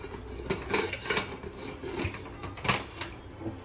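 A pressure cooker of curry is set up in a home kitchen, with close metallic clatter, scraping and lid knocks coming in irregular bursts at moderate loudness, and no talking.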